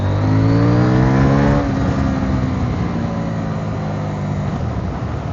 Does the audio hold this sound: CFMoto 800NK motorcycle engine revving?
yes